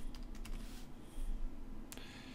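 Computer keyboard keys tap in scattered light clicks while HTML is being written, close and soft, with a brief pause before a final sharper keystroke.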